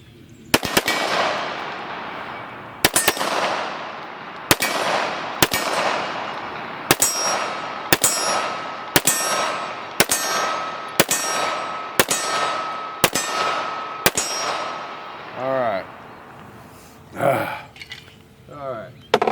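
Rock Island TAC Ultra FS .45 ACP handgun shots ring off steel targets outdoors, about a dozen sharp cracks each followed by a metallic clang, fired at a steady pace with a few faint sounds at the end.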